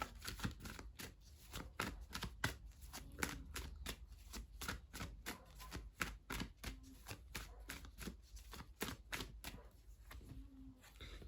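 Tarot cards shuffled and dealt by hand, a steady run of soft, quick flicks and taps, close and quiet, with no voices.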